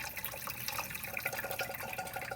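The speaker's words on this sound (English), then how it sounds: "take our strainer, just kind of pour it slowly" Pasta water pours through a strainer, a steady close splashing and trickling rush of liquid that runs on without a break.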